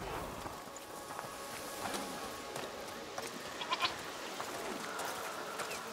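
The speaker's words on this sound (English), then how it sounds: "Goats." In the video game A Plague Tale: Requiem, goats bleat intermittently at a moderate distance over a steady ambient background, with a few brief footstep-like sounds mixed in.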